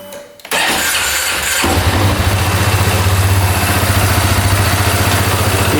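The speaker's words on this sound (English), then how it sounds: "Starts up now without having to give it throttle." An ATV engine, recently repaired after a valve fault, cranks briefly and catches, then settles into a loud, steady, close-up idle that runs throughout.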